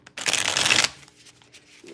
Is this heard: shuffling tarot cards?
yes